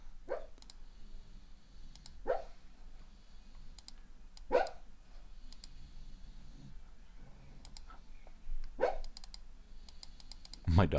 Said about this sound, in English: My dog is making some strange noise.